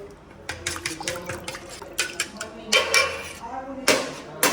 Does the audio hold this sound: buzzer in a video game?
no